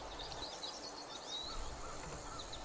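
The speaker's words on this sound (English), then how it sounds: "Listen to the birds as they welcome the morning" Several birds chirp and twitter in high, brief morning calls over a steady soft outdoor hiss, with no voices present.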